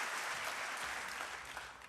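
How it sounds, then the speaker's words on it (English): Audience applause at a university convocation, a dense, steady wash of many hands clapping throughout, with no voices standing out. "I was supposed to say give him a round of applause."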